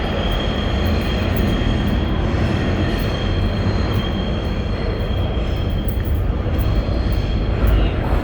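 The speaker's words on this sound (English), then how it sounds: "Guys, a train is coming." New York City subway train arriving on the R line near Court Street in Brooklyn, a loud, continuous roaring rumble of wheels on rails with a faint high whine, close and steady throughout.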